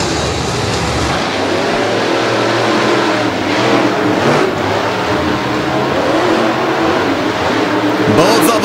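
Drag racing engines roar continuously as two cars accelerate hard down the strip at a Monsters of Destruction event in Madison, loud and sustained for the whole stretch, with no clear break in the roar.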